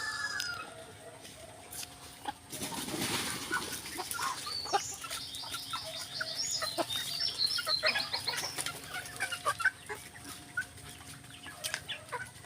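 Chickens cluck and chatter softly at a distance, with a rooster-like call rising midway over a quiet outdoor background.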